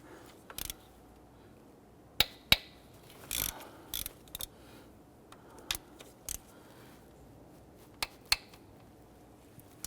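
A hand ratchet works 10mm intake manifold bolts loose on a 4.0L V6 Nissan Frontier, giving short, sparse bursts of quiet clicking separated by pauses in an otherwise still garage.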